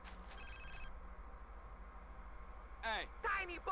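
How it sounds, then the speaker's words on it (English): A telephone ringing in Grand Theft Auto: San Andreas, a few short electronic ring bursts, fairly faint, over quiet game background hum. "Phone call."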